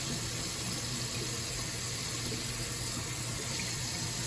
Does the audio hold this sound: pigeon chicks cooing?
no